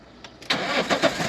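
A car's engine cranks and catches with a brief starter whir, then settles into a steady running rumble close by, with no talk.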